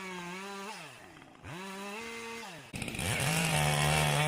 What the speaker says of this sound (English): you can see me just quickly bucking up what can be used for firewood